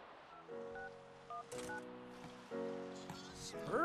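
A synthetic electronic mobile phone ringtone in The Sims 3, short melodic tone bursts repeating in a steady pattern over faint background ambience, with a brief voice at the end.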